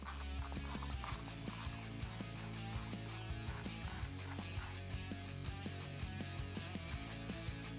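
A driver turns T25 screws out of the inner fairing dash panel of a Harley-Davidson Street Glide, giving close ratcheting clicks in quick repeated runs with small metallic ticks, with no one talking.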